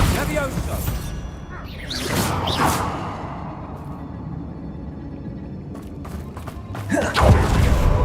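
A Bombarda blasting spell cast in Hogwarts Legacy during a fight, with a whooshing build near two to three seconds and a heavier thudding burst near seven seconds, amid game combat and a speaking voice.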